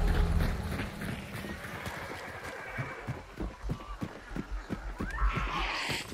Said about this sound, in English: These are some prime stallions.